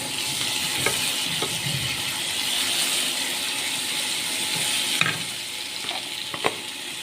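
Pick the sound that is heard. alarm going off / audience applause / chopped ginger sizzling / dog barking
chopped ginger sizzling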